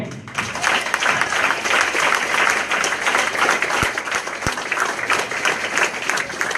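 Dense, loud applause fills a church service as the congregation claps for God, a continuous wash of many hands with a couple of sharper claps near the end and some voices blended in.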